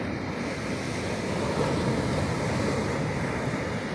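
Sea waves rolling onto the shore at Kanhangad Beach, a steady, continuous wash of surf with wind noise, loud and unbroken throughout with no voices.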